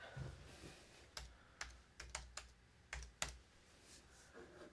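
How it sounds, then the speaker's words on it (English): Keystrokes on a computer keyboard, a series of sharp, separate taps in an irregular rhythm, quiet and close, with faint background hiss and no talking. "So type in gothic."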